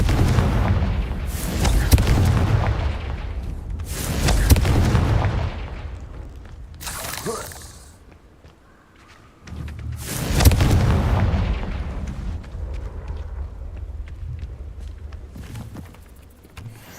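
Confringo fire-spell blasts in the Hogwarts Legacy video game land as deep booming explosions in several separate bursts, each rumbling and fading, with quieter stretches of game ambience between them.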